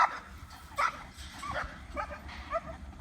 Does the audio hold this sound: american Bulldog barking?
yes